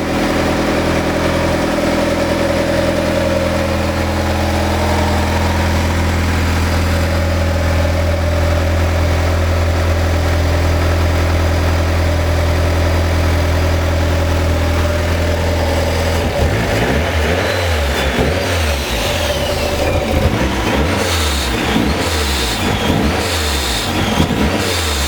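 Forged Mazda BP turbo engine from a time attack build on its first start, idling loud and steady up close before breaking into a run of sharp, repeated revs.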